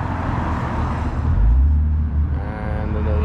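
A Toyota Supra's engine rumbles as it drives past close by in a JDM car convoy, its low growl swelling and then fading, with a brief voice in the background.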